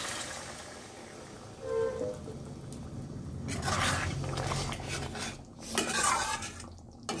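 Hot water poured and stirred into a bowl of fried potatoes in a home kitchen, heard as close scraping and clinking of utensil against the bowl with brief splashy bursts.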